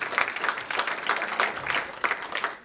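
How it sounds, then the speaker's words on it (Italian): An audience at a school event in Basilicata claps for someone, a moderately loud round of applause with individual claps standing out in an uneven, fairly quick patter. "E se gli facciamo un applauso,"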